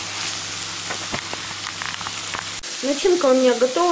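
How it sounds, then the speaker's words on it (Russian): Mackerel sizzles and is stirred in a frying pan, a steady crackling fry with scraping strokes, while someone talks over it and then keeps talking as the sizzle continues faintly beneath. "Теперь я сюда добавляю скумбрию. Все перемешиваю и жарю все вместе."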